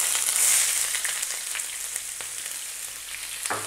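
Onion dropped into a hot pan alongside browned Chinese-style pork spare ribs, giving a steady close sizzle with a brief louder burst near the start and a faint clatter near the end, no talking.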